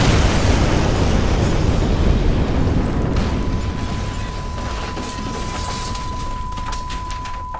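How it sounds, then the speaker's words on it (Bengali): Bombs explode all around during an air raid, a loud dense roar of blasts and rumbling debris that slowly fades into crackling and scattered pops, with no speech. "চারিদিকে দুমদাম শুধু বোমা ফাটার বিকট আওয়াজ"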